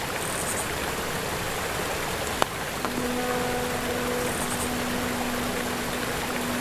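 Waterfall in the Walkabout Mini Golf video game, a steady rushing hiss of flowing water with a brief click and a soft tone, heard alone without talk.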